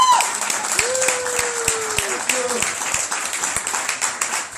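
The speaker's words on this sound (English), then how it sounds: "Applause for Ms. Kowalski" An audience at a stand-up comedy show applauds at the end of a set, with steady dense clapping throughout. A voice speaks briefly over it.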